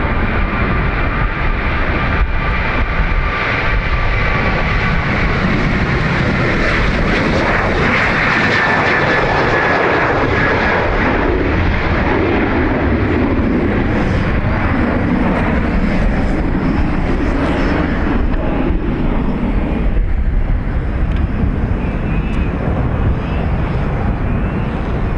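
A fixed-wing airliner departing Dublin Airport roars loudly and continuously, its engine whine swelling and then slowly easing as it moves away, with no voices.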